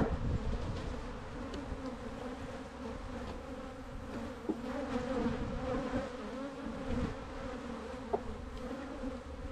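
Honeybees drone steadily inside a drone-laying hive that holds only male brood, a continuous close buzzing with small rises and flickers, with no voices.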